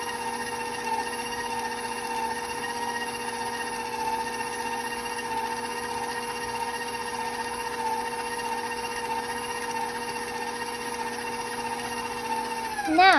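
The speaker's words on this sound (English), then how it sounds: "I'm going to speed my mixer up a little bit more so air can enter" Electric stand or hand mixer running at a raised speed through M&M cookie dough, a steady close whirring drone with a constant motor hum that stays even throughout and rises slightly at the very end.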